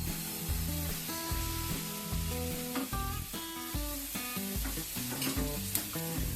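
Egg pitha (patisapta) batter sizzles steadily on an oil-brushed pan, a continuous soft hiss running beneath prominent background music.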